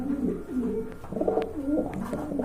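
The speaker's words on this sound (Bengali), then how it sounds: "এখানে কিন্তু দেখতে পাচ্ছেন আরেক জোড়া কবুতর রয়েছে" Pigeons at a Bangladeshi pigeon market give repeated soft, throaty coos close by, in overlapping rolling phrases with no talk over them.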